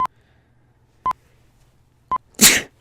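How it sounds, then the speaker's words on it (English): Three evenly spaced short beeps sound, then a single sharp sneeze bursts out close to the microphone. "I feel like I'm going to have to sneeze in a second."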